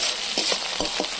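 Ginger paste and tomato frying with minced meat in a pan, a steady broadband sizzle with a few soft stirring scrapes, close and continuous before cutting off abruptly at the end.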